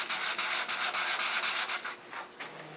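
A wooden bowl spinning against a sanding mandrel on a lathe gives a close, pulsing abrasive rub in quick regular strokes that fades softer in the last second.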